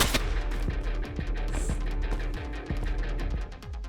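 Enemy bullets fire in the Stride VR parkour game, a steady run of evenly spaced gunshots over a constant rumbling background, moderately loud and with no talking.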